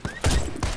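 A Barrett M98B-style scout sniper rifle fires in the video game Warface, giving two or three loud, sharp cracks spaced roughly a third of a second apart, each with a heavy low boom and short tail, with no talking.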